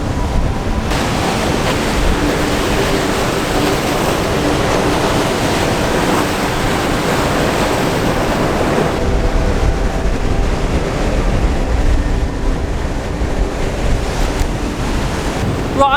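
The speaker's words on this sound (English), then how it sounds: "The sea's coming in horrendously fast" Sea waves surge continuously onto a shore amid gusting wind. The wash is loud and constant, and the roar thins slightly partway through.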